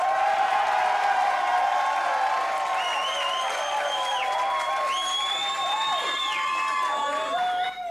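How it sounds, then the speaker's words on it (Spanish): Studio audience at a Chilean talent show applauding and cheering for a contestant, a dense steady wash of clapping with shouts and whoops over it, loud and sustained throughout. "Aplausos para Christopher Quintana."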